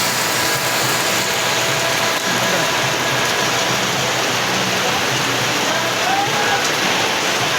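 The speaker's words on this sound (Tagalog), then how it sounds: "Lakas ng ulan." Heavy monsoon rain in the Philippines pours steadily in a dense, constant hiss with no breaks, close and loud throughout.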